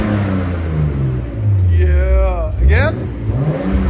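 A right-hand-drive 1989 Nissan Skyline Type-M on its stock exhaust and converter revs in two rising and falling sweeps, loud and close, with someone talking over the first part.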